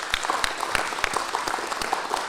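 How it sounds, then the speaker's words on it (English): An audience breaks into applause, a dense, steady patter of many hands clapping at close range for the whole short stretch, with no voices over it. "So one round of applause for him, please."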